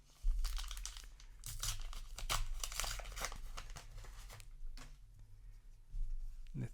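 A Flesh and Blood trading card booster pack from the Bright Lights set being torn open close up, with sharp crinkling, tearing bursts of foil wrapper and a low background hum.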